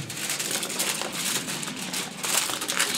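Tin foil crinkles and crumples continuously at close range as it is folded over on itself, a dense papery crackling with no voices.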